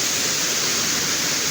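Water gushing down the Mullamari dam waterfall at Khelagi, Bidar: a loud, unbroken roar of falling water, close and even throughout, with no voices over it.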